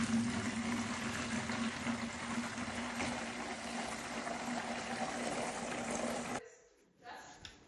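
Water, 2,000 grams, poured steadily into a mixing container ahead of blending PoolCem F2 microcement; a continuous rushing splash runs for about six seconds, then stops abruptly, leaving near-quiet.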